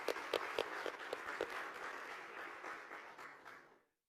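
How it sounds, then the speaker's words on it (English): An audience at the Tamil Nadu Global Investors Meet 2024 applauds a minister, fairly faint and distant, with a few sharper claps early on before the clapping fades to silence near the end. "Please give him a round of applause."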